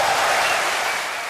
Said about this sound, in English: Can we give that an applause?